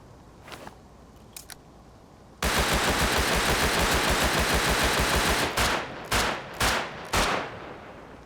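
Rapid automatic gunfire in the survival game Rust bursts in loud and sustained for about three seconds, then breaks into several shorter separate bursts, following a couple of faint clicks at the start.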